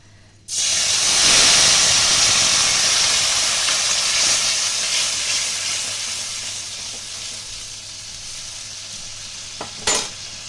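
Spice paste of cumin, ginger, garlic, onion and tomato with dried red chillies sizzles loudly in hot oil, a steady close frying hiss that fades slightly over time, with a brief clatter of stirring near the end.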